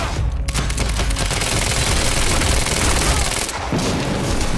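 Loud gunfire and explosions in the video game Quantum Break, with rapid bursts of shots and heavy booms as grenades go off, dense and close, briefly dipping before the barrage resumes.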